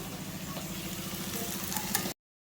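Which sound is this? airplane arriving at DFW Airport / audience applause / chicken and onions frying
chicken and onions frying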